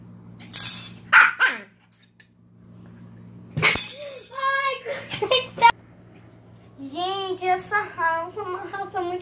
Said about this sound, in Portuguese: Ela mesma mexe pra fazer barulho pra ela latir.